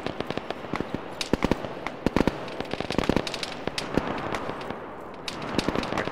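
Sharp gunshots crack in irregular volleys during an Arma 3 forest firefight, some close and loud, others thinner and more distant, scattered across the whole stretch.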